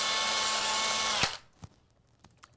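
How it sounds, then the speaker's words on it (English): An electric drill whirs steadily while hollowing out small craft dice, a loud sustained motor whine that abruptly stops, followed by a few faint clicks and taps. "You also want to make sure your drill is going the correct way."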